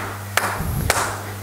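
Three single hand claps ring out over a low steady hum, spaced unevenly and fairly close, with no voices.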